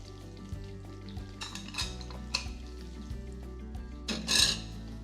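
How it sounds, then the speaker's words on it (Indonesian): Onion and garlic sauté in melted butter, giving a gentle sizzle broken by occasional spatula scrapes and clinks against the pan, with a louder scraping burst near the end and no talking. "Langsung aja dimasukin bawang bombay, bawang putih,"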